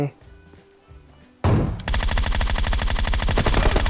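PUBG Mobile gunfire erupts after a quiet moment: a loud sharp sniper rifle shot followed by a rapid, sustained burst of rattling shots, close and loud.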